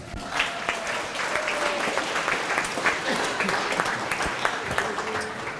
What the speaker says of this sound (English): Give them a big welcome and an applause